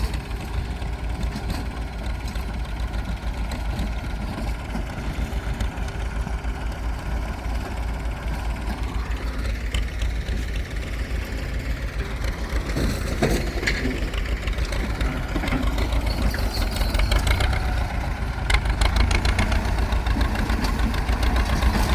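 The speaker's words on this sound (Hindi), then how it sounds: "ये दूसरी ट्रैक्टर जो है ना ये अभी साथ ही साथ लेवलिंग शुरू कर देगा।" A tractor engine runs continuously while levelling ground at a stone-extraction site for a chicken facility, a steady mid-low rumble with some knocking, growing slightly louder toward the end, with no talking.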